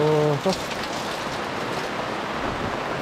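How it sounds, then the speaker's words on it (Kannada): Heavy monsoon rain drums on a camping tent, a dense, steady roar of drops that fills the whole clip after a brief voice at the very start. "ಒಳ್ಳೆ ಸೂಪರ್ ಮಳೆ ನಮ್ಮ ಟೆಂಟಲ್ಲಿ ಒಳ್ಳೆ ನೀರೇ ನೀರನ್ನೆಲ್ಲ ಹಿಂಗೆ ಬೀಳ್ತಿದೆ"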